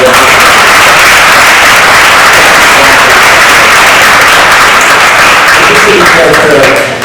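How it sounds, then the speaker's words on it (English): An audience at a local candidates forum applauds in a dense, continuous wash of clapping that holds steady and fades slightly at the end. "A round of applause"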